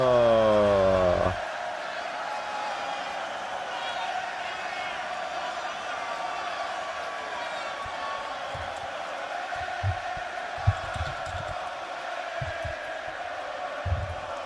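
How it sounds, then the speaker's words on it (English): A large arena crowd at a WWE Monday Night Raw broadcast makes a steady, distant roar under a nearby speaking voice, with a few sharp thuds and bursts of cheering scattered through it. "This crowd is hot, by the way."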